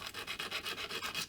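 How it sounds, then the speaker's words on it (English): 400-grit sandpaper is rubbed over a handmade lightsaber guitar pick in quick, even back-and-forth strokes. The raspy sound is close and fairly quiet, with about ten strokes and no voices. "I'm just going to go through and sand everything"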